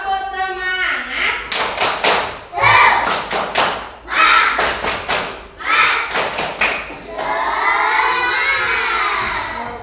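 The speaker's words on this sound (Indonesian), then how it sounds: "Tepuk semangat." Third-grade schoolchildren in a classroom perform a spirit clap chant, shouting rhythmic words in unison punctuated by sharp bursts of synchronized clapping, ending in a sustained group cheer.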